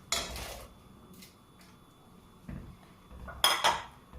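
Chunks of potato and carrot drop into a metal pressure cooker pot, giving a few sharp, close clatters and knocks with quiet gaps between them and no speech.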